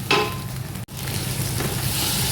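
Blended tomatoes hit a hot pan for chicken biryani, an opening splash of sizzle followed after a brief gap by a steady close frying hiss with light stirring; no talking.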